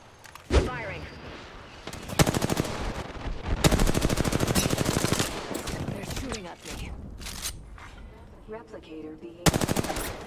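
Automatic weapon fire in the battle royale game Apex Legends, with several loud rapid bursts of shots spread through the clip, repeated cracks over a busy background of game effects.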